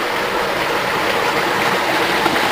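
A stream flows through an autumn forest, its water rushing and bubbling in a steady, fairly loud wash with no other sounds.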